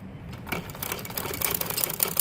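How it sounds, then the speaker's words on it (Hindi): A sewing machine stitches fabric for men's Bermuda shorts with a fast, close, continuous mechanical clatter that grows slightly louder, and no one speaks. "अब हम इसके ऊपर सिलाई लगाने लगे हैं, ये आप देख सकते हैं।"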